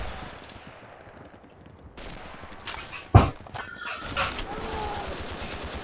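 Sporadic rifle and machine-gun fire crack around a contested building during an all-out infantry attack in a Red Orchestra multiplayer match, with scattered shots building to one loud, sharp report midway and more distant fire after it.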